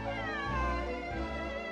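A cat in the Genshin Impact game lets out a long, loud, drawn-out meow that wavers in pitch like a caterwaul, heard alone and up close.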